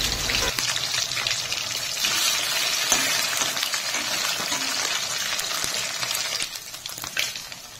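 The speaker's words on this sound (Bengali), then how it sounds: "উল্টে আরেক পিঠ ভেজে নেব।" Snakehead fish sizzles loudly in hot mustard oil in a wok, a steady, dense crackling fry that continues close up for the whole stretch with no pauses.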